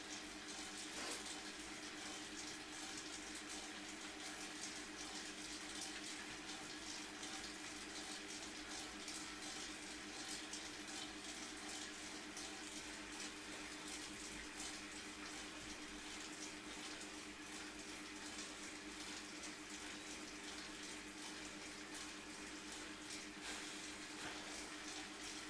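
A shower runs steadily at home, a broadband hiss of falling water holding even and unbroken from start to finish with no voices over it.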